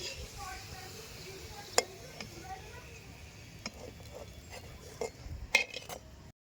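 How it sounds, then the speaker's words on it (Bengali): Food frying in oil for chicken bharta with naan puri, a faint steady sizzle under scattered utensil clinks and taps from a spoon against the pan. "তো দেখো এবার আমার বর এগুলো তেলে ভেজে নিচ্ছি"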